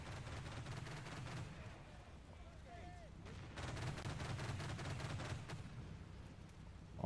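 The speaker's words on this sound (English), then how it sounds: "Who's suppressing with machine guns?" Machine gun fire in the Combat Mission Battle for Normandy video game, distant crackling bursts and scattered shots over a low rumbling background, fairly faint, with brief whistling tones midway.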